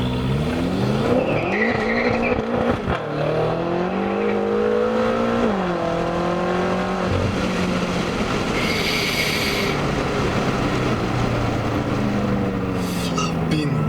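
A BMW F10 M5 launches in first gear with the rear tyres spinning. A loud, continuous engine roar rises in pitch through the revs under a steady tyre squeal, heard from inside the car.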